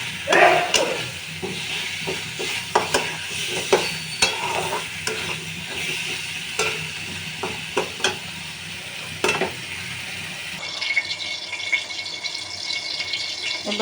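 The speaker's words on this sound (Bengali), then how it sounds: "এই যে কাঁচা কলাটা মশলার সাথে কষানো হচ্ছে" Green banana is stirred and sautéed with spices in a pan, giving a steady soft sizzle broken by repeated scraping stir strokes. Near the end a running-water or frying hiss briefly joins in.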